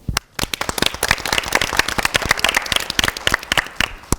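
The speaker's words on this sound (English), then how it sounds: "I want to give a round of applause for our producer of last night and tonight's events, Miss JaWaun Kenreich." An audience at an Indiana University event on the Black experience at a PWI claps steadily for about four seconds, with many sharp, separate hand claps close by and no voices.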